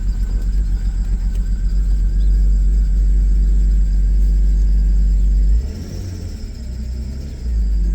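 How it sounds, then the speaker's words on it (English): BMW E46 engine idling after a restart, following five years of sitting, with a steady, loud low rumble up close that dips briefly partway through and then settles again. "look at that, we're idling."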